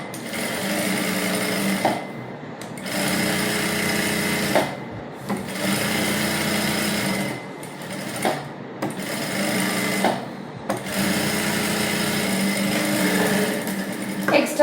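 A sewing machine stitches a princess-cut blouse piece in long runs of fast, steady mechanical whirring, stopping briefly several times between runs, loud and close with no talking.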